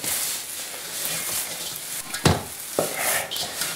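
Raisin nut bread dough being mixed and worked by hand with the heels of the palms, a steady soft squishing and rubbing with a couple of sharper slaps, close and alone.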